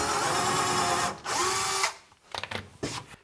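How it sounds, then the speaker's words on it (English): A power drill pre-drills pilot holes for screws in wood while building a table saw storage cabinet, running steadily for almost two seconds with a brief pitch dip, then cutting off into a few short clunks and handling knocks. "I'm going to pre-drill to screw into"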